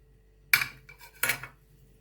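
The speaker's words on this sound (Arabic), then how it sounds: "وهبدا بقى اقلب المكونات بتاعتنا مع بعضها" Seasoned minced meat and baking powder are mixed in a bowl for Egyptian hawawshi, with two distinct utensil clinks and scrapes against the bowl separated by a quiet pause.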